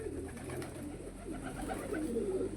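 Pigeons coo steadily in a bird keeper's loft, a low, continuous murmur of overlapping calls at moderate volume with no talking.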